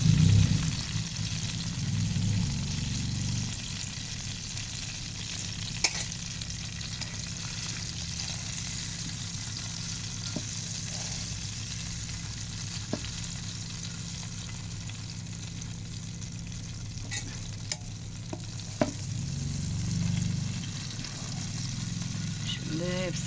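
Fish frying in oil in a pan, a steady soft sizzle throughout with occasional small pops and clicks, faint and close, with a brief low rumble at the start and end.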